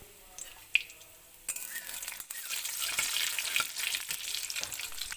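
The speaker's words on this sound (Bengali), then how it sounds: "এই তেলেই দিয়ে দেবো এক চামচ কালো জিরে আর দুটো কাঁচা লঙ্কা চিড়ে নিয়ে" Black cumin seeds and slit green chillies hit hot oil, left over from frying ridge gourd, for a Bengali fish curry; a soft stir comes first, then a sharp, steady, close sizzle builds and keeps crackling.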